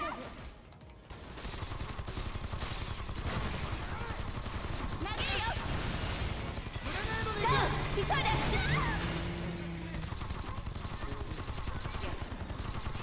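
Rapid SMG fire in Sword Art Online: Fatal Bullet rattles almost continuously across the stretch, a dense sustained volley with people talking over it.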